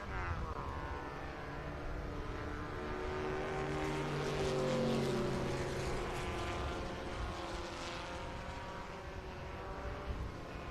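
An Alfa Romeo Duetto Spider and a Spitfire race on track at Barber Motorsports Park, their engines a continuous droning roar that swells and fades as they pass at moderate distance.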